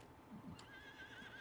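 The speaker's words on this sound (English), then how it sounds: "come on, horse, get out of the way" A horse in the Farming Simulator 19 video game gives a faint, wavering whinny, heard alone over quiet background sound with soft hoof clops beneath it.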